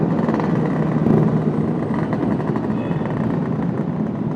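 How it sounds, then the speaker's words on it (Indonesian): A loud, steady motorcycle exhaust, newly replaced, roars continuously up close in Jakarta, a rough rumbling drone with no pauses. "Soalnya knalpot dari Dimas berisik banget"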